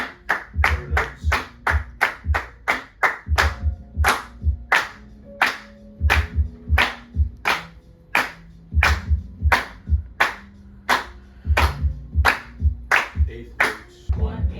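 A group claps a steady eighth-note rhythm during a drum-teaching lesson, sharp, even claps repeating in a regular pulse with brief pauses between phrases, loud and close, with no talk over them.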